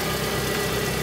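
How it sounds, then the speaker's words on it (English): A Vauxhall Astra engine idles steadily during a coolant flush, a close, even mechanical hum with a faint rhythmic knock and no voices. "Now it's just a case of let the engine run"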